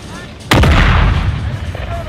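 A single loud, close artillery cannon blast from the Napoleonic-era video game Napoleon: Total War, an abrupt boom followed by a long rumbling decay over faint background battle ambience.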